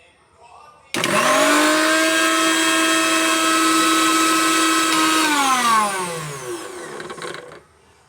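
A kitchen mixer grinder blends cumin seeds, garlic and shallots in its jar, starting abruptly with a loud, steady motor whine that runs for several seconds before winding down with a falling pitch and a few sputtering bursts.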